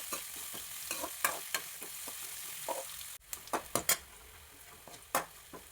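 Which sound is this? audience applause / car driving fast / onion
onion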